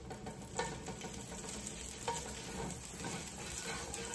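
Croissant French toast frying in butter in a pan over medium-low heat, a steady close sizzle with soft crackles and occasional small pops, no talking.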